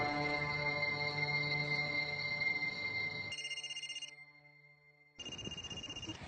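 A phone ringtone plays as a tonal electronic melody, pausing briefly before resuming, fairly quiet and without voices.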